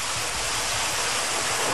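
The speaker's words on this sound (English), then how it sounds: "We can adjust the flow and bring these streams together and create what we call laminar sparks" Fountain water jets streaming in a steady, continuous broadband rush, loud and close with no pauses or voices.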